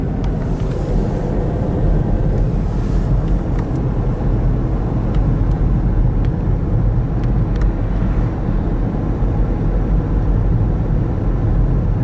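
A car driving along a road around Melrose, Florida, with a steady close rumble of engine and tire noise from inside the cabin and no talking.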